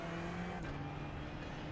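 Ferrari GT3 car in iRacing at Rudskogen Motorsenter, a steady engine note under throttle with a gear change partway, droning evenly at moderate level with no talk.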